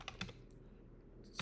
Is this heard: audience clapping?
no